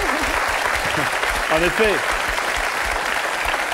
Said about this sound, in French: Ah ben nous vous applaudissons.